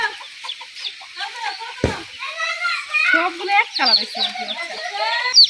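A hen clucks while her chicks, hatched the day before after twenty-one days of sitting, peep around her, close and busy, with people talking nearby and a sharp knock partway through.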